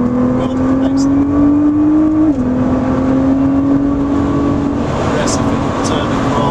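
A Nissan GT-R R35 engine pulls hard around the Oulton Park circuit in a close, loud, continuous drone that rises steadily, dips briefly, then climbs again under power.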